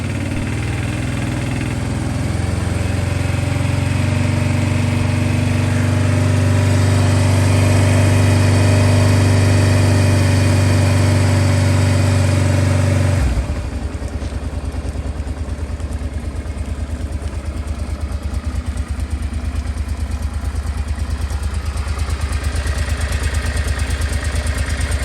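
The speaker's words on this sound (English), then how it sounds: "Let's hear how this engine starts and how it goes." A Honda Deauville NT650V 650cc V-twin touring motorcycle engine starts and then runs at a steady idle for over twenty seconds, loud and close, with the note dropping to a rougher, lower hum midway; no talking.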